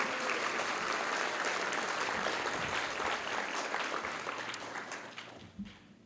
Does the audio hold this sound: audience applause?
yes